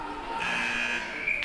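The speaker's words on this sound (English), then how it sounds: "a short buzzer to signal the end of the first period" A short, steady electronic buzzer sounds at an ice hockey game between the Capitals and Cyclones, marking the end of the first period, heard at moderate distance over arena noise.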